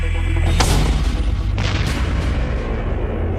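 A Dragonfire mortar system fires, sending out a sharp, heavy boom followed by a second blast and a rolling rumble, loud and close, with no talk.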